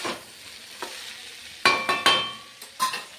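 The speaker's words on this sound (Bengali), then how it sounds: "এবার সব সবজিগুলো দিয়ে নাড়াচাড়া করছি।" Mixed vegetables with panch phoron, green chilli, ginger, onion and whole garam masala frying in a pan for veg dal, a close sizzle broken by several sharp scraping stirs of a spatula.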